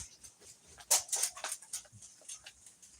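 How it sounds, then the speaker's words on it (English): Dogs whimpering and softly yipping while chewing on a bed indoors, a cluster of thin, whiny cries in the middle of the clip over quiet rustling. "So I got my dogs who like to apparently eat my bed again."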